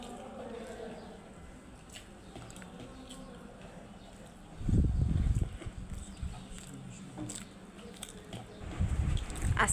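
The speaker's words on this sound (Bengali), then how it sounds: "দুপুরে খাওয়া দাওয়া করতেছি" People eating lunch at home, with soft close chewing and biting sounds that come in bursts over low background noise, louder in the second half, while voices talk faintly at times.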